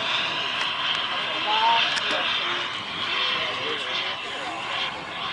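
RC turbine T-33 model jet flying aerobatics overhead, a steady high turbine whine that swells and fades as it passes, with people talking nearby.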